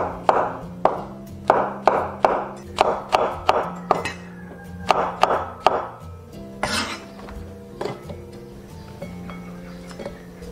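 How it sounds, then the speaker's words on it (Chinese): Knife slicing button mushrooms on a cutting board, a run of about a dozen crisp, evenly spaced chops, close and clear, then slower scattered taps and a faint clink. "然后直接切片，不用切得特别薄"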